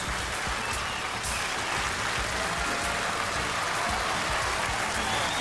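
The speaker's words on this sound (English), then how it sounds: "Let's give those guys a big, warm round of applause" A crowd applauds the final boat's anglers at a bass fishing tournament weigh-in on Lake Sinclair, Georgia, a continuous, even wash of clapping held at a steady level throughout.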